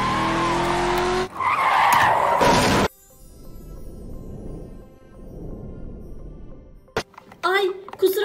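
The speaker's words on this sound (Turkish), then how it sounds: "Biraz acemiyim de galiba çarptım." A cartoon car screeches into a loud tire skid and crashes, followed by quieter rumbling and a sharp hit, with voices talking near the end.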